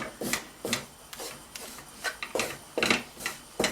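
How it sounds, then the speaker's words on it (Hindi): A series of sharp, close scraping strokes, about nine in under four seconds, as gram flour (besan) is stirred and roasted in ghee in a pan for besan ladoo, with no one talking. "अब इसको अच्छी तरह मिक्स करके इसे भून लेते हैं"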